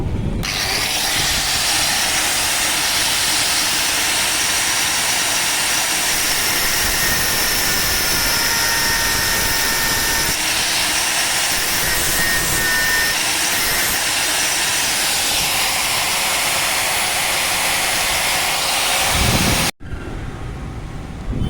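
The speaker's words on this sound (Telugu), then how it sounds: "బోల్ట్ బిగించాక దీన్ని హెడ్ కట్ చేయాలి." Grinder cutting the head off a bolt on a Honda Activa main stand, a loud continuous high-pitched whine with steady grinding roar for about twenty seconds, then cutting off abruptly near the end.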